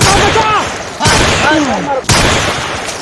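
Three loud, sharp gunshots ring out about a second apart in a comedy skit about a bandit gang, each crack trailing into a noisy rumble with faint voices underneath.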